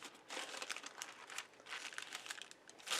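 Sheets of paper are crumpled and handled during gel plate printing, giving a series of close, crisp crinkling bursts with short pauses between them and no voices.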